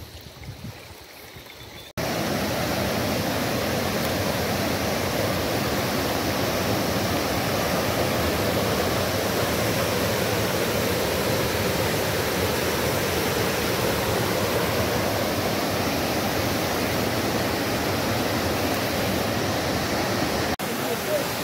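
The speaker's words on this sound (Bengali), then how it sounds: "ছোট্ট একটা নালা নেমে গেছে, উপর থেকে আসছে জলটা।" A mountain stream tumbles down as a small waterfall beside a forest trail on a Sikkim trek, a loud, steady, close rush of water that starts abruptly and runs on unbroken.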